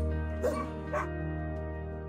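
Street dogs in Romania give two short barks and yips over a steady droning hum, the bursts loud and fairly close with a whimpering edge.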